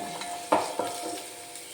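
Finely chopped ginger, garlic and green chillies fry in hot oil in a pan with a soft constant sizzle, punctuated by two quick stirring scrapes.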